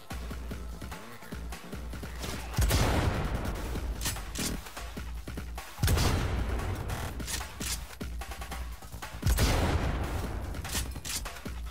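Gunshots from a video game weapon, a few loud sharp blasts spaced seconds apart, each followed by mechanical clicks and handling noises, with no speech.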